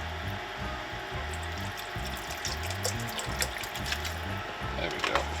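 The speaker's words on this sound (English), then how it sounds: "A little more water so I can get them over the shells" Water runs steadily into a gumbo pot over shrimp shells, a continuous pouring wash with a low pump-like hum beneath it, close and moderately quiet.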